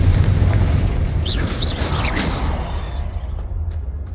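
A Confringo fire blast spell in Hogwarts Legacy bursts in a loud, sustained rumbling boom with crackling bright flares, fading out after a few seconds.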